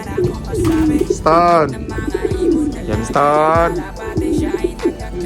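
Pigeons coo in deep, throaty repeated calls, two prominent warbling phrases standing out, with some faint chatter and movement nearby.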